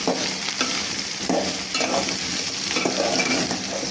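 Grated radish curry sautés in a hot pan, with a steady bright sizzle broken by repeated scraping strokes of a spatula stirring the mixture, close and fairly loud, no voices.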